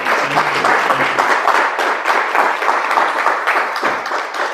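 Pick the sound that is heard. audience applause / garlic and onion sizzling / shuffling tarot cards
audience applause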